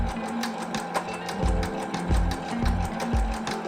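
A sewing machine stitches a fabric circle onto a larger quilt square, its rapid mechanical whir broken into short bursts with brief pauses, close and clear.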